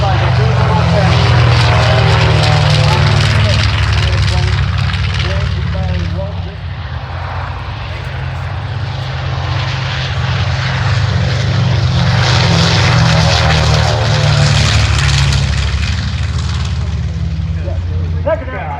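Warbird aircraft engines drone loudly and continuously at the AirVenture 2023 airshow, a deep propeller roar that swells and dips as the planes pass, with voices talking over it.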